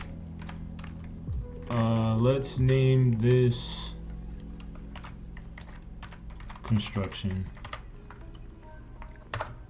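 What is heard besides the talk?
typing on a computer keyboard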